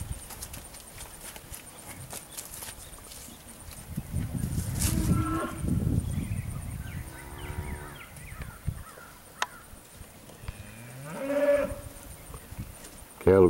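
Weaned heifers at a Georgia–Alabama cattle sale moo and holler toward herd mates across a fence, with loud calls rising around the middle and again near the end over background farm noise.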